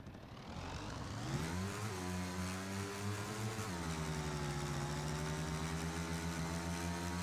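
A motorcycle engine in the video game PUBG (Battlegrounds) drones steadily, its pitch rising and falling as it revs, with a slightly synthetic, game-like tone.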